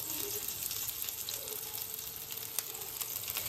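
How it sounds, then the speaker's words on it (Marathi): Aloo tikki sit on a nonstick tawa with oil trickling around them, giving a faint, steady sizzle with a light hiss throughout. "या टिक्क्यांच्या सगळ्या साईडनी असं तेल सोडायचं आहे"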